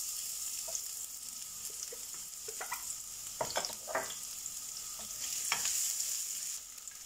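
Garlic and onion frying in a pan, giving a soft continuous sizzle broken by irregular scraping and stirring clicks from a utensil.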